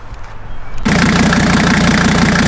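Diesel Jeep engine, just repaired after a cracked turbo feed line, cranks briefly and catches, then settles into a loud, steady, close idle with a rough rhythmic clatter.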